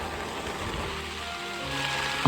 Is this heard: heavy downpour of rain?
yes